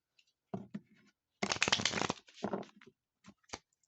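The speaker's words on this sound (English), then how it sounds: "All right, let's get one more shuffle." Tarot cards riffle and shuffle in a few quick bursts close up, with short pauses between, in an otherwise quiet room.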